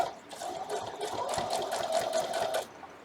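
Sewing machine backstitching on a dog house quilt block, a steady close whirring run of needle strokes lasting a few seconds before stopping.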